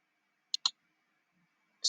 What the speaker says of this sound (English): then you're going to click on search